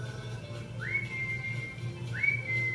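A person whistles two rising slides that each settle into a held note, clear and moderately near over a low steady background hum, with no talking.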